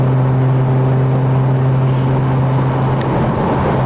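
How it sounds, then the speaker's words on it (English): A Ford Mustang V6 with an MRT Interceptor axle-back exhaust drones steadily as it accelerates on the road, a loud continuous engine hum and rumble heard from inside the car. "you can hear the exhaust a little bit louder because you're getting up into the RPM range"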